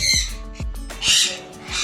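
Harsh, loud sun conure squawks repeated in quick bursts, several breeding-pair parrots calling nearby with shrill, grating cries.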